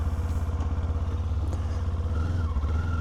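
A Kawasaki Z500 or Honda CB500F beginner motorcycle pulling away, its engine note pulsing steadily close to the microphone and rising in pitch toward the end as it accelerates.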